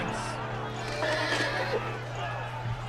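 Horse neighing in the video game Game of Thrones: a single loud whinny over a low steady hum and game background sounds, with a faint thud near the end.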